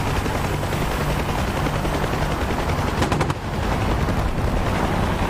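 Helicopter gunfire in the combat flight game DCS, with an attack helicopter's dense rotor and engine drone throughout and a brief burst of rapid cannon fire crackling over it midway.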